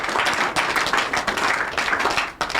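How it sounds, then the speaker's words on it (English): A group claps steadily and fairly close, a brief burst of applause with no voices. "If you won't clap, we're going to clap."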